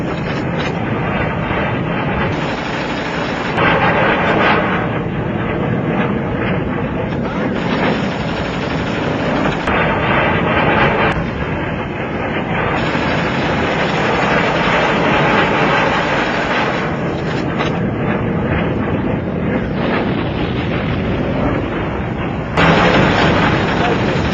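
October War air attack with artillery fire: a continuous loud, rumbling barrage of blasts and booms, dense and unbroken, with a voice narrating over it.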